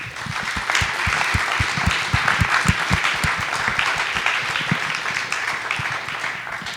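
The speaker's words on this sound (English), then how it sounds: "can we please give these wonderful folks a huge round of applause?" Audience applause at a community conversation event, a dense, loud wash of many hands clapping steadily throughout, with a few faint voices mixed in.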